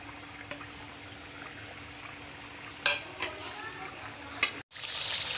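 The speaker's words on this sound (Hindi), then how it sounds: "अब मैं इसके अंदर डालूंगी ये स्पाइसेस, सूखा धनिया," Dried coriander, red chilli, spices and salt fry in a pan for chicken haleem, giving a steady close sizzle with a few sharp stirring clicks and a brief dropout near the end.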